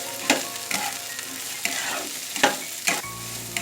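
Cauliflower, carrot and onion sizzle in a hot pan as a spatula stirs them, with steady frying hiss broken by several sharp scraping strokes at irregular intervals.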